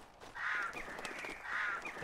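Crows in the Assassin's Creed 3 game world give two harsh caws about a second apart, moderately loud over faint ambient background noise.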